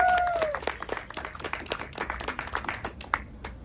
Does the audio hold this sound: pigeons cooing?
no